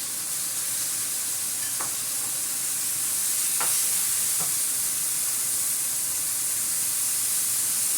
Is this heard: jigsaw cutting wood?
no